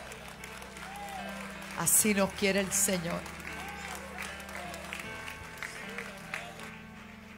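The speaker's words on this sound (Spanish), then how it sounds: "ese aplauso más fuerte para el Señor" Applause at a lively Spanish-language church service rises in a few stronger bursts midway. It sits under a preacher's ongoing speech and sustained background music.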